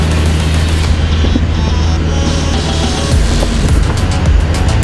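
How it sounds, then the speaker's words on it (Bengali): Car engine roaring steadily while climbing a steep mountain road toward Sajek Valley, a loud continuous drone with rumble and wind, no voices. "আপনারা অবশ্যই গাড়ির ইঞ্জিনের শব্দ শুনতে পাচ্ছেন,"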